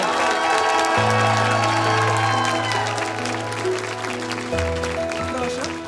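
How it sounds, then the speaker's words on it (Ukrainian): A studio audience at a Ukrainian television show claps and cheers steadily, with a bed of music running underneath the applause for the whole stretch. "Олег Тягнезуб, ваші оплески."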